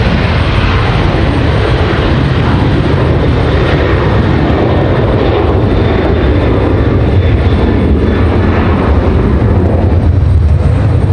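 A large airliner rumbles loudly and steadily near Raleigh Durham airport, a broad continuous engine roar filling the whole stretch with no voices.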